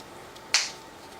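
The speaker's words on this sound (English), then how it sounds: "To cue you to move to the next one, I'll snap my fingers once." One crisp finger snap, close and clear, stands alone in an otherwise quiet room.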